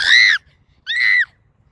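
Two short, loud, high-pitched screams, each about a third of a second long and separated by a brief pause, are played to make a running dog run more; they sound close and stand alone.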